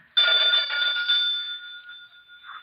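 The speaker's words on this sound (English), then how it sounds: "what a funny-sounding doorbell." A pull-cord doorbell with a ringing tone like an old telephone bell jangles loudly for about a second, then fades away alone, in a 1949 radio drama.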